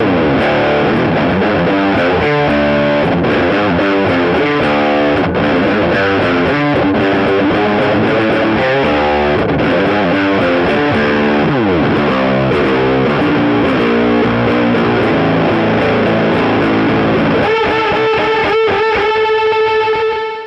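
Dense, bright fuzz-distorted electric guitar in an alternative rock style, riffing continuously at high volume, with sustained chords ringing out near the end.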